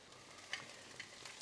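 Aubergines sizzle faintly in a pan as they cook down for a pasta sauce, a quiet steady hiss with a few soft clicks and pops, heard alone with no talk.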